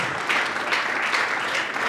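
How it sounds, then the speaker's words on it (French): A crowd applauds at an awards night as a presenter is called up, a continuous, fairly loud wash of many hands clapping with slight swells. "Sous vos applaudissements, Karim Pala, pour remettre le prix de l'excellence."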